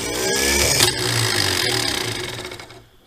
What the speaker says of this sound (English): Starter sounds a lot better than the other one.